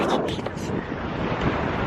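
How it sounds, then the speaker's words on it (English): Strong outdoor wind buffets the microphone in a broad, continuous roar that rises and falls, with a voice briefly audible underneath. "It is super windy."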